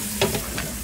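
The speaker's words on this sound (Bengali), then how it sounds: "মাংস বসিয়ে আমি এখন আলু আর চাল কুমড়াটা ছেড়ে দিয়েছি, হতে থাক।" Beef with potatoes and ash gourd cooking in a pot in their own meat fat without added oil, giving a brief close sizzle and stir with a soft hiss underneath.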